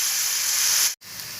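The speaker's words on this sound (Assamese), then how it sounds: "এতিয়া মই এনেকৈ ভাজি থাকিম।" Vegetables for mixed chowmein fry in a pan, producing a loud, steady, close hiss that cuts out for a split second near the end, then resumes.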